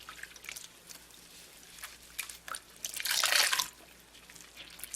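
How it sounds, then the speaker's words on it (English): Soapy water squeezed out of a knit scarf by hand, giving wet drips and trickles in irregular bursts with one louder gush of water near the middle, close and fairly quiet. "Okay, now I'm going to squeeze the water out of the scarf."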